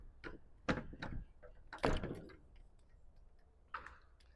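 The rear swing door of a cargo trailer being unlatched and opened, giving a few sharp metallic clunks and knocks followed by quieter rattles, heard nearby with no speech.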